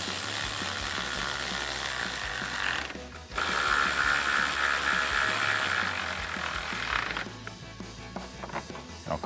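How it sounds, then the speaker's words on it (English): A 10mm socket ratchet tightening a headlight bolt on a 2009-2014 Ford F-150, giving close, rapid clicking in two bursts split by a brief pause, then a few scattered clicks. "Tighten those down with a 10mm socket,"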